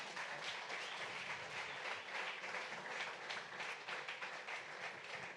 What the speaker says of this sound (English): let's have a round of applause for Carol Kruse